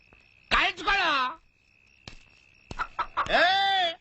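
A country hen gives two drawn-out, wavering clucking calls with a short gap between them, close by, over a faint steady whine.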